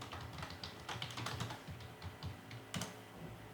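Fingers typing a Cisco EIGRP authentication configuration on a computer keyboard, a quiet, close run of irregular key clicks and taps with a few sharper strokes.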